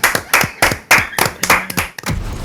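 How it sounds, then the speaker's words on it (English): Small group applause at the close of a podcast session comes in several distinct bursts of hand claps, close and loud, rhythmic at first and then breaking into looser, overlapping claps. "Give you a round of applause."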